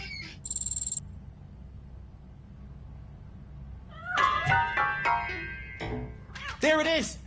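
A cat meows in the video game Robocop Rogue City. A few short, close meows and mews come late, over a faint low hum, after an earlier brief high tone.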